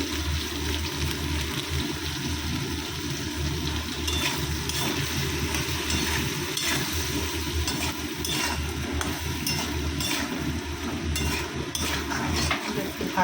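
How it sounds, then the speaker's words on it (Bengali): Spice tempering of chilli powder, turmeric and cumin frying in a pan, a continuous busy sizzle with intermittent scraping and stirring, close and steady for the whole stretch. "ভাজা হোক"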